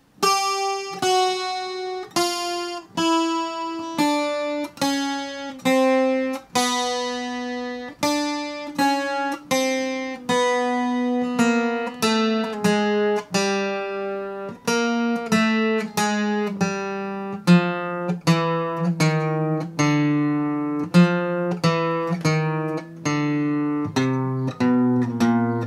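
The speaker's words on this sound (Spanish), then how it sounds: "voy a tocar todo el adorno completo lento para que puedan ver cómo va" A requinto guitar plays a full ornament slowly, one clear plucked note after another in a steady unhurried run of single tones, close and alone with no voices.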